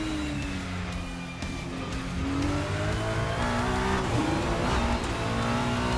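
A race car in a racing video game laps the Nürburgring, running from the GP track's final chicane toward the Nordschleife. Its engine drones and revs continuously while tires squeal through the corners, loud and close, with no voices.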